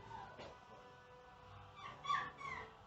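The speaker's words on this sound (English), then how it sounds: "What's the matter, little puppy?" A puppy whimpers and yips in a kitchen while rice cooks, thin, high cries rising near the end against a low background hum.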